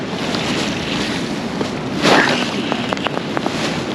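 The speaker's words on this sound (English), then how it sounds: "this wind is wild" Strong, gusty wind buffets the microphone beside the River Findhorn, a loud continuous roar with a sharper gust midway and a few faint higher tones near the end; no talk.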